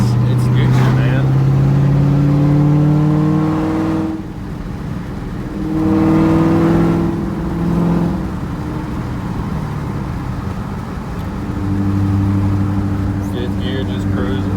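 A high-mileage Ford Mustang engine pulls in fourth gear, a loud steady drone that briefly eases off and then builds again, with someone talking over it in places.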